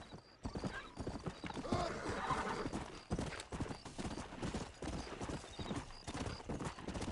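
Hooves clip-clop in a steady trotting rhythm, close by, and a horse whinnies partway through, with game-style ambience underneath, in Red Dead Redemption.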